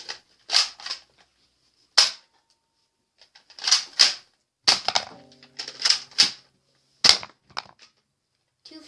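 A toy Nerf gun, unboxed as a Christmas gift, fires a series of sharp, snappy shots with short pauses between them, each a crisp close-up pop followed by faint clatter.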